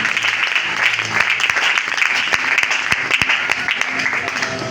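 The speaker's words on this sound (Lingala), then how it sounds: "Est-ce qu'on peut acclamer encore la parole de Dieu?" A church congregation applauds during a service, with dense, close, steady clapping and a few louder individual claps running throughout.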